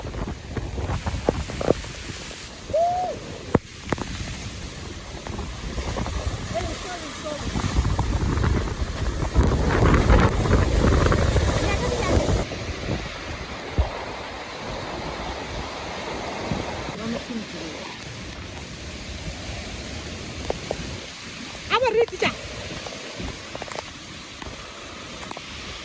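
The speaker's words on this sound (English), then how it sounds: "This rain is heavy" Heavy rain and strong wind sweep through a village, a loud continuous roar of wind and downpour buffeting the microphone, surging and easing over the length, with a voice speaking intermittently above it.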